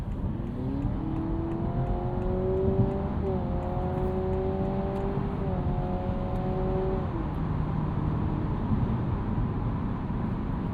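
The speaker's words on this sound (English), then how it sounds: "we'll show you the kickdown here on this Civic Hybrid" A 2025 Honda Civic Hybrid accelerating hard under kickdown while merging, its engine note climbing steadily in pitch, dropping back and climbing again over broad road and wind roar heard from inside the cabin.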